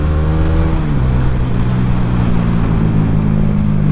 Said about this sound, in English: look at how the Dominar is accelerating in front of these bikes